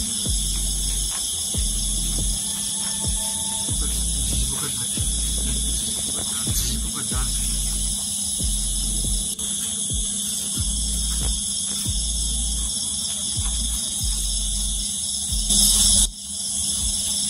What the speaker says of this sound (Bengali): দেখুন ঝিঝিক করা আওয়াজ